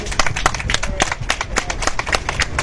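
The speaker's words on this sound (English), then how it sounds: "If you guys can give a round of applause" Applause for the Sweetwater High JROTC color guard at a one-year anniversary event, a steady patter of many hands clapping close by with no voices over it.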